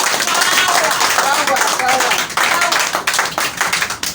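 A church congregation claps steadily and loudly for several seconds, a dense, continuous wash of many hands with voices mixed in.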